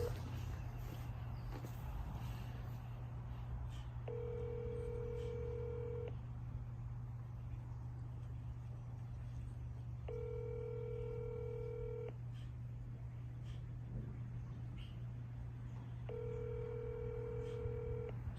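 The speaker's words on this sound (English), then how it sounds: "we're going to try and call him right now and see if he answers" A telephone call rings out unanswered, with three evenly spaced electronic ringback tones about six seconds apart over a steady low hum, and no voices.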